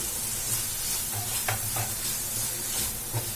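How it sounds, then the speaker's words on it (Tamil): Onion, coriander leaves and masala sautéing in a pan for a wheat-flour and egg snack, a continuous close sizzle broken by several soft stirring scrapes, with no talk. "அது வரைக்கும் லைட்டா வதக்கிக்கலாம் இந்த வெங்காயத்தை"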